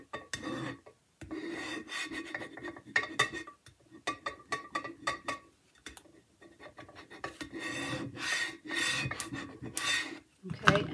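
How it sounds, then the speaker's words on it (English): A scraper rubs transfer tape tight against glass in a craft project. The rasping strokes come in quick irregular bursts with short pauses, close and fairly quiet. "I'm going to take my scraper here and we're just going to make sure that that happens."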